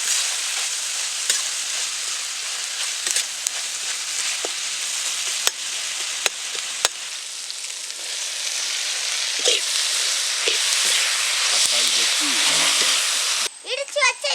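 Onions and tomatoes fry in a pan for an egg chukka varuval, giving a steady, close sizzle throughout with occasional clinks of stirring, and a brief scrape near the end.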